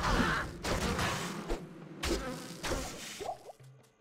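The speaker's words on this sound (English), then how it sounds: "Just punch the bees." Bees in the video game Diablo 2 drone as a steady insect buzz with game sounds layered over it, and punches or thuds land amid the swarm before it fades near the end.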